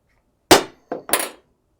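A hammer dropped from height onto a tempered glass panel lands with a sharp crack, then bounces twice with lighter clinking knocks; close and loud, with no talk.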